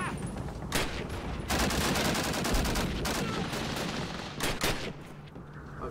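Battle gunfire in the World War II video game Call of Duty: United Offensive, sustained overlapping rifle and machine-gun volleys with sharp individual cracks, steady and fairly distant in a dense firefight.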